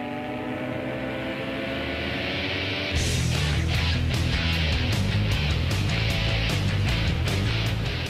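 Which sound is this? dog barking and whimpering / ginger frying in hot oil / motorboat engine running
motorboat engine running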